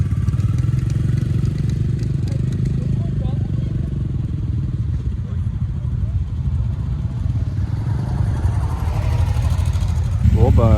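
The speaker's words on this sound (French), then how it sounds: "La moto réussit à démarrer." A Royal Enfield motorcycle engine runs steadily at close range with a dense low rumble, rising slightly near the end after a brief clatter; people talk faintly underneath.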